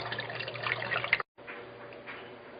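Cold tap water pours steadily over frozen shrimp to thaw them, a quiet continuous rushing trickle that breaks off for a moment and then resumes.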